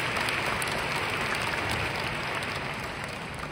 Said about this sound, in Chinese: 真的需要再一次的给您一个掌声